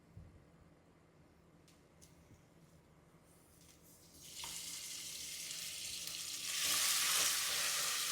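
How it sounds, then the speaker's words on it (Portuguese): Butter dropped into hot amber caramel in a pan, starting as a quiet simmer and then rising into loud, steady bubbling and hissing sizzle that swells near the end. "Nessa hora vai borbulhar e é assim mesmo."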